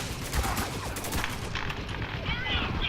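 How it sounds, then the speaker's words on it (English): A sustained, rapid burst of machine gun fire crackles through a Spec Ops: The Line firefight, loud and dense with overlapping shots and battle noise throughout. "how about take cover when a machine gun runs at you?"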